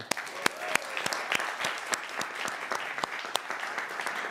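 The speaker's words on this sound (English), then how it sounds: "I want to also give a big round of applause to Thor Chalgren, who made this happen." Audience applause at a Sunday celebration service, a steady wash of many hands clapping with sharp individual claps standing out, sustained and fairly close throughout.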